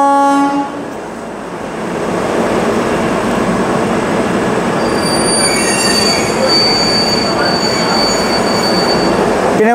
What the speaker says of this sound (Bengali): এই যে আমাদের ট্রেন ছেড়ে দিল।